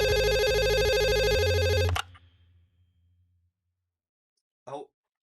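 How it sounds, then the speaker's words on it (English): A telephone rings on a live fantasy football call-in show's phone line, a loud electronic ringtone for about two seconds that cuts off abruptly, then a brief faint sound after silence. "I think we got a call on the phone line"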